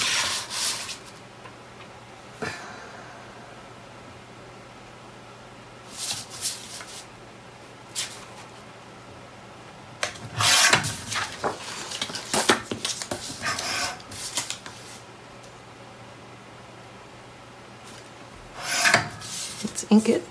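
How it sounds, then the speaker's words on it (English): A one-inch strip of craft paper being cut, heard as scattered short scraping and slicing rasps in separated bursts, close and fairly soft, with quiet stretches in between and no speech. "So I need to cut another 1-inch strip."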